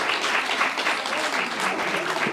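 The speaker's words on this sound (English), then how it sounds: "Let's clap for Balozi." Audience at an investment forum plenary session claps steadily in dense, close applause with no break.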